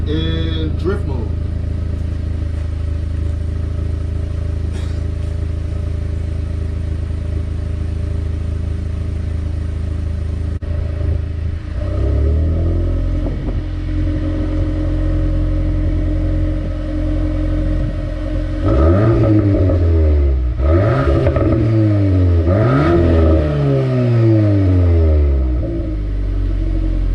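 A VW Golf R MK8 in drift mode holds a steady idle hum, then accelerates hard through repeated rising revs and gear shifts, loud and close, with an interior voice talking during the first part.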